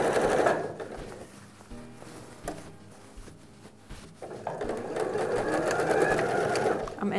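A sewing machine stitches a SnapPap paper bread basket in fast, steady runs, pausing in the middle for a few clicks and handling sounds before running again.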